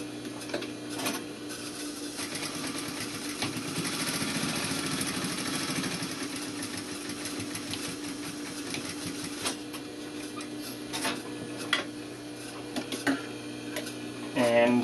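A sewing machine stitches a seam for a welt pocket, with back tacks at start and end: steady mechanical whirring and ticking, close by, pausing briefly partway through.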